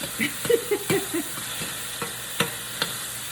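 Vegetables fry and sizzle in a pan for a plant-based wrap, a soft steady hiss with a few quick stirring scrapes and clinks near the start.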